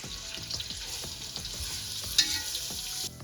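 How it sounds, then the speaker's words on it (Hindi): Onion frying lightly in oil in a pan, a steady soft sizzle with occasional stirring scrapes and one brief clink, close and continuous with no talking. "इसके अंदर शामिल करेंगे प्याज को हम बिल्कुल हल्का सा फ्राई करेंगे"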